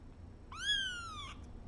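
Tiny orphan kitten giving a single high, thin meow, clear and close over a quiet room.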